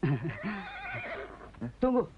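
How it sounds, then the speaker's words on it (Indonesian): A horse whinnies near a stable in a dramatic film scene, a long wavering neigh followed by a short spoken word and a second brief snort-like call. "Si belang meringkik."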